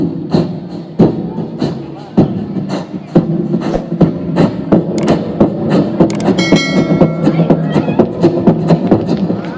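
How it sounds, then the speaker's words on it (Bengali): A train-running sound effect performed at a school fair show produces a loud, steady run of rhythmic thumping beats like a train chugging along the tracks. "এরপরে ট্রেনটা যখন রানিংয়ে যাচ্ছে"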